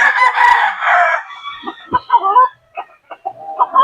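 Talisay gamecock rooster, a 7-month-old backyard-bred fighting bird, lets out one loud, close crow followed by several shorter clucks and calls.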